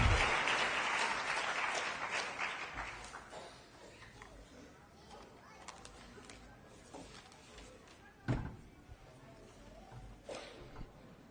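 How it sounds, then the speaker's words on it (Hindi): Applause at a Hindi-language political gathering welcoming the state party president, starting as loud dense clapping and then thinning into scattered claps under a speaker's voice and crowd murmur. "हम लोग के ताली अच्छे से बजाइए भाईजान, ताली थोड़ा अच्छे से बजना चाहिए।"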